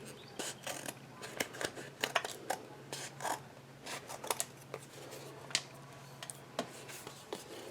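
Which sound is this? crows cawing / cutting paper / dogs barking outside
cutting paper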